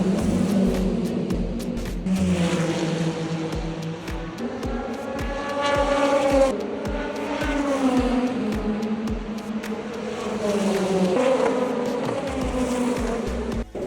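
Race cars at the 24 Hours of Le Mans scream past on the circuit in repeated loud waves, engines rising and falling as each car passes close by, with a steady roar of further cars in between.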